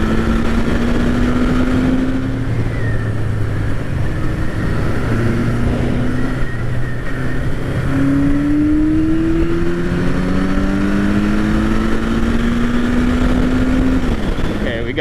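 A 1983 Suzuki GS1100L motorcycle rides along. Its engine note climbs steadily through several gear changes under constant wind rush, staying loud and close throughout.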